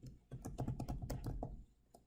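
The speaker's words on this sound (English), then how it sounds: "We can start typing in the address that we'd like to use." Quiet, close typing on a computer keyboard, a quick burst of about a dozen key clicks over two seconds, with no talking.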